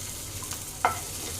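Paneer shallow-frying in butter in a pan gives a steady, soft sizzle throughout, with one brief clunk of a utensil partway through.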